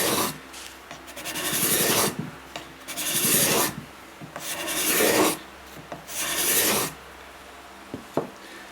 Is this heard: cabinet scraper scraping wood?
yes